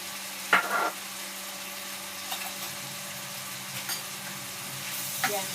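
Food sautéing with soy sauce in a pan, a soft steady sizzle with a few brief stirring scrapes and clinks, close and moderate in level, with no talk.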